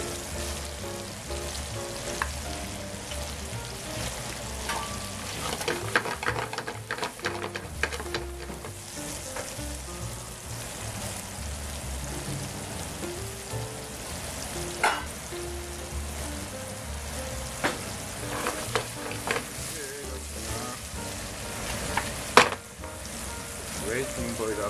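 Eringi mushrooms fry with bacon in a pan for a bacon and broccoli penne, giving a steady, close sizzle with scattered pops and stirring scrapes throughout.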